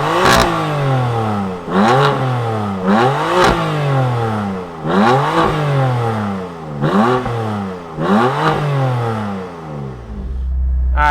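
A 2020 BMW M2 Competition's engine fires up and revs repeatedly, with roughly six sharp, loud blips rising and falling in a steady rhythm close by, then settling toward idle at the end.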